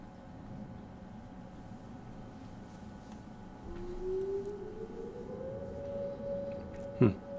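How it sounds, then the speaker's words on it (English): A siren wails faintly outdoors at a distance, a steady tone rising slowly in pitch over a quiet room hum, with a short bump near the end. "Some sort of siren out there."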